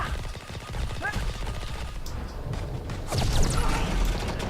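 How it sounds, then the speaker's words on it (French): A video game character fires a special attack, a rapid burst of bullets that rattles through a busy mix of game effects, with louder crackling shots near the end and faint voices underneath. "Son coup spécial, ce perso c'est une rafale de balles qui font plus de dégâts"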